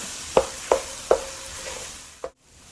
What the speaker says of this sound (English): Okay, just mix it.